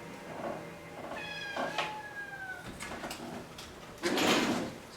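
A house cat meows indoors, several drawn-out wavering meows at close range, followed by a brief rustling burst near the end.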